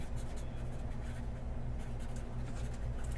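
Pen scratching as names are jotted down, faint and continuous beneath a steady low hum and broadband room noise.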